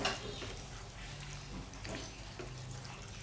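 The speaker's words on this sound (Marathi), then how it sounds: "आता हे मी परतून घेते" Prawns and potatoes sautéing in a spicy Malwani masala, a steady low sizzle with faint stirring scrapes throughout, fairly quiet and continuous.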